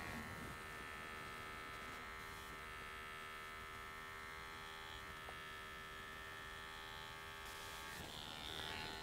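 An adjustable hair clipper runs at its shortest setting during a barber's taper haircut, giving a steady close electric buzz with a constant hum that holds evenly throughout.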